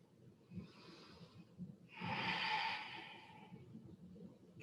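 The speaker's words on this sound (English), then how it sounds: "take a big breath" A person lying on one side during a yoga session takes a big breath: a soft inhale, then a longer, louder airy exhale, close and alone in a quiet room.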